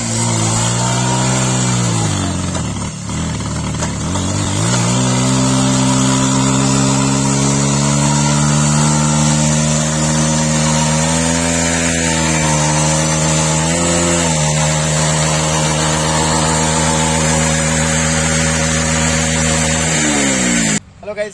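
A motorcycle engine revs hard and steadily through a fire burnout, its loud harmonic drone rising and dipping with the throttle, with one brief drop midway before climbing again.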